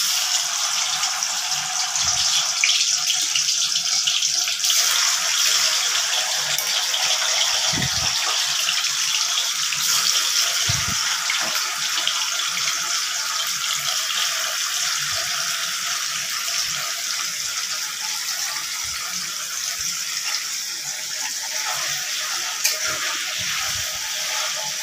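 Paneer frying in hot oil in a pan, a constant close, loud sizzle and hiss with a few soft knocks underneath and no talk throughout.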